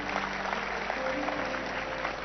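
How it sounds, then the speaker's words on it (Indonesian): A church congregation claps steadily through the whole stretch, a dense, moderately distant applause with no voices standing out above it. "Ayo tepuk tangan yang benar-benar mau tepuk tangan."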